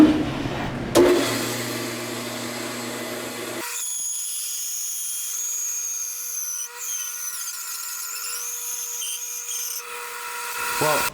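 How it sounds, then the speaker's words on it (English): A band saw with a 1 hp motor resaws a 3 3/4 inch cherry board on a used blade, starting after a short burst of talk and then holding a steady, close, high whining cut for several seconds before easing off. "let's resaw a piece of 3 3/4 inch cherry"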